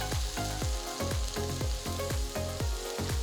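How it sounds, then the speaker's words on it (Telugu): Chopped garlic and ginger fry in oil in a wide kadai with a steady loud sizzle, broken by a regular series of sharp metal spatula scrapes and taps roughly every third of a second as the pieces are stirred. "ఇందులో 1 టేబుల్ స్పూన్ అంత తరిగిన వెల్లుల్లి, 1 టేబుల్ స్పూన్ తరిగిన అల్లం వేసి వేయించాలి."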